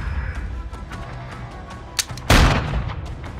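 Video game gunshots: a lone sharp shot followed by a louder, heavier blast and its decaying rumble, over a quiet background hum.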